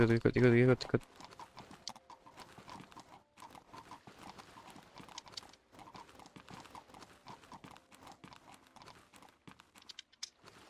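Horse hooves clip-clop steadily in the Old Market Simulator video game, a continuous quick rhythm of light hoof strikes that runs through the whole stretch after a short burst of game music at the start.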